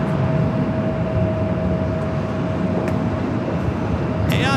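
Boeing 787 Dreamliner jet at Los Angeles International Airport, a steady loud engine roar holding throughout with a faint tonal whine, distant and continuous, with a brief voice near the end.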